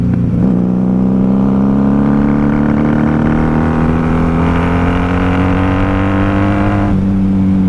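A 1994 Honda Magna VF750C motorcycle engine hums steadily while riding, with a loud, continuous droning tone that rises gradually in pitch, dips briefly, then carries on alone without talk.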